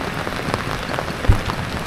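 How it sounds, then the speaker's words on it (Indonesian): Rain falls steadily in Dieng on a quiet evening, a dense even patter on surfaces with one brief louder knock partway through. "kalau hujan kayak gini paling ya antara belasan ya belasan derajat teman-teman"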